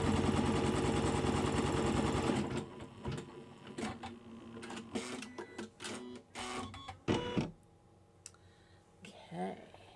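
An embroidery machine stitches a placement outline for an in-the-hoop circle coin purse. It gives a loud, rapid mechanical rattle at first, then irregular bursts of clicking and whirring that stop and start.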